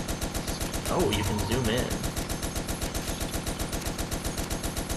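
Turret fire in the Toy Soldiers: War Chest video game, a steady rapid rhythm of repeated shots running throughout at even loudness, with someone talking briefly over it partway through.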